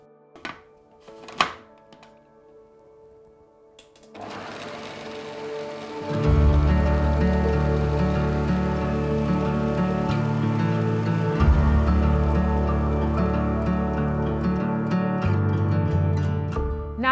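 A blender processes thick chocolate hummus, starting after a few faint knocks and then running as a loud, steady motor whir with a shift in pitch partway through.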